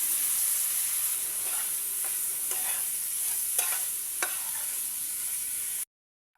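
Ichha shrimp and ground spice paste sizzle hard in hot mustard oil in a pan, a steady loud frying hiss broken by a few scraping knocks of the stirring spoon before it cuts off abruptly.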